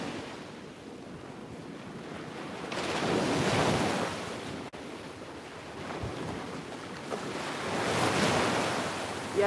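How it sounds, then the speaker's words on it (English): Ocean waves wash in and break steadily at close range, with swells rising around four and eight seconds over constant wind noise on the microphone; no one speaks. "I love the sound of the waves too."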